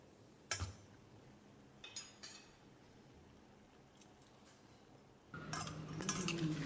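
Fried milk buns stirred into sugar syrup: a few faint clinks and scrapes of a utensil against the pan, followed by a softer, steady stirring and sloshing at the end.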